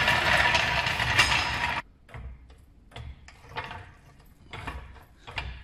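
A jack is positioned and raised under a vehicle during an oil and air filter service. A loud metallic rattle opens the clip, then a series of separate ratcheting clicks and pumping strokes follows at a steady, close pace.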